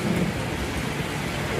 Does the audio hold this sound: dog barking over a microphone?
no